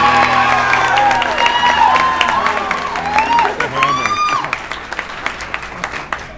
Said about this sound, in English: Maybe some applause.